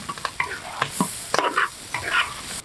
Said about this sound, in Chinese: 炒出花椒香味，下入炸过的兔儿，